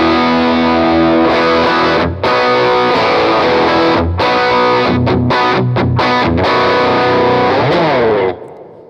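Electric guitar played through a Chase Bliss Automatone Preamp MKII overdrive pedal, gritty sustained chords and notes with brief pauses between phrases, loud and close, ending with a fading ring.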